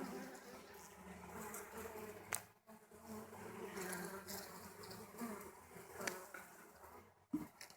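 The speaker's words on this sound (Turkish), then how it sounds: "Altında bir avuç arı kaldı." A handful of honeybees buzz continuously up close in a wax moth–infested hive, a dense droning hum with occasional faint taps and knocks.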